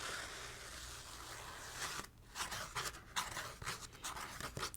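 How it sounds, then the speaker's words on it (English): A sheet of thick, dense textured paper is pulled and torn off in close, crisp bursts of ripping and crackling after a quieter start. It is heard up close with no talking. "I am just going to pull off a sheet of this textured paper here, and it's pretty thick and dense."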